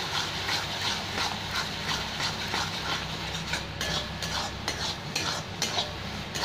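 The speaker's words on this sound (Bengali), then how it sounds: "একটু নাড়তে নাড়তে এটা শুকিয়ে যাবে" Begun bhorta, a mashed eggplant dish, is stirred and fried dry in a pan, giving a steady run of scraping and clinking utensil strokes with a soft sizzle beneath, close and continuous with no talking.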